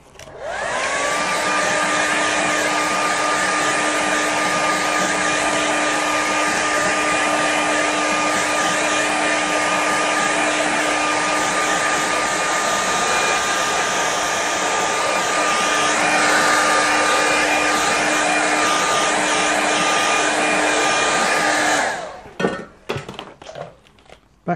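A hair dryer blows steadily on a watercolour river painting, a loud, even whine with a constant hum running about twenty seconds before cutting off, followed by a few soft knocks and handling noises.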